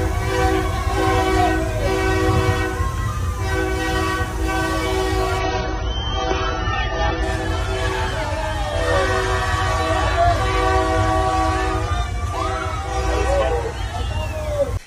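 A train rumbles past in Mexico with a loud, sustained horn blaring over steady rail noise, the roar continuing throughout.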